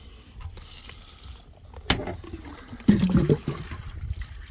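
Gray water drains from a Camco Rhino portable RV waste tote, giving intermittent gurgling, sloshing flow with a couple of louder surges and splashes up close.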